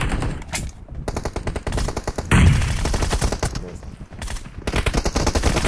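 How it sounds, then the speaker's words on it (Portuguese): Automatic and rapid gunfire in PUBG Mobile, with dense bursts of shots that pause briefly and resume, loud and close in the mix. "olha o tanto de tiro que esse cara tomou"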